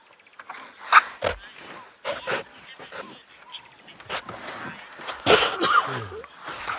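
An animal on a morning safari gives a few sharp sneezes and snorts, brief bursts scattered among rustling and faint background sounds, moderately close.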